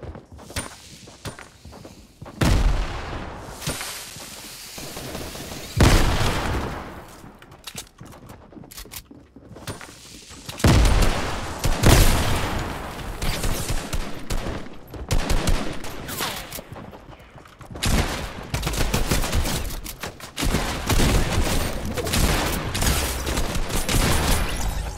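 Loud shotgun blasts and bursts of gunfire from a Fortnite match come in spaced clusters, mixed with footsteps and thuds, with quieter gaps between volleys.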